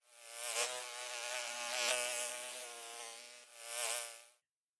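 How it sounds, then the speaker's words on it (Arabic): A bee buzzing loudly near a window, a continuous close drone that swells and fades as it moves, heard alone with no other sounds. "أرى نحلة تقترب من النافذة أسمع طنينها عاليا"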